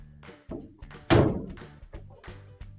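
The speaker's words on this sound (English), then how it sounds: "Now we can close our dryer door." A GE gas dryer's door swings shut with a single solid thunk, close and fairly loud, with faint mechanical ticking around it.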